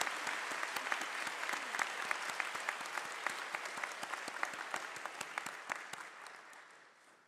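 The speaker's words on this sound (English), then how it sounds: "Please join me in applauding these special guests." Sustained audience applause fills a doctoral hooding commencement ceremony for a school of pharmacy and pharmaceutical sciences, steady dense clapping from a large crowd that slowly fades toward the end.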